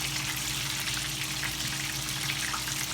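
Tempura-battered cod frying in hot oil, a dense continuous bubbling sizzle that stays even and fairly loud throughout, with no voices.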